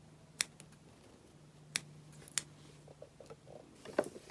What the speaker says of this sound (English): This time I'm going to cut the threads quite close to where I've sewn.